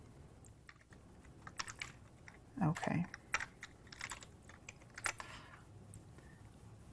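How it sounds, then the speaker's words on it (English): Keys clatter on a computer keyboard in short, quick bursts of typing, close and fairly quiet, with a brief spoken word in between. "this keyboard is not cooperating."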